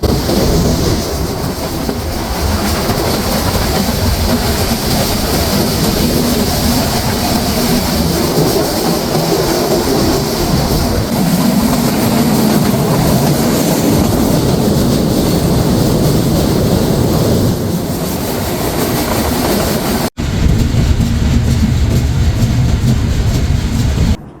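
Silkcity Express passenger train in Bangladesh running on rails, a loud, continuous rumble and rattle of wheels and carriages heard from on board, shifting tone near the end.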